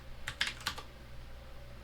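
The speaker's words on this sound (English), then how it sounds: "type in MSI Afterburner" Quick burst of typing on a computer keyboard, about five close, crisp key clicks in under a second, alone against a faint room hum.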